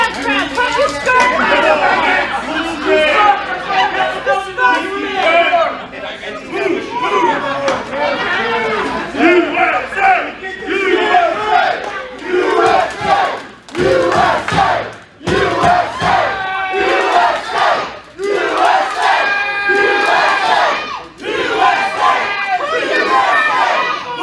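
A wrestling crowd at a Frontier Wrestling event jeers and yells loudly and continuously, with chanting surges and brief drops. A commentator talks over the noise.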